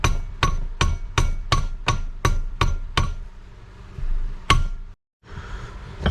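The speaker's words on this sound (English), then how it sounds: "your bearing should just go right in the case, just like it's doing" A bearing is tapped into a Willys Jeep T-90 transmission case with a run of about ten sharp, evenly spaced hammer strikes, close and loud, followed by a pause and one more hit.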